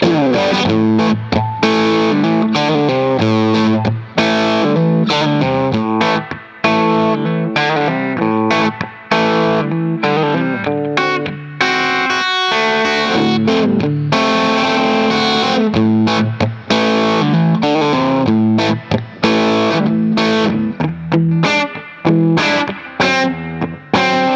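A distorted electric guitar plays a steady, driving riff with chords and sustained notes, loud and continuous with only a brief thinning midway.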